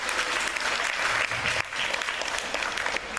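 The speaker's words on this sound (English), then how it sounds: "So if everybody could give Judge Wooster a round of applause." A room full of people applauds steadily, a dense patter of clapping that holds throughout.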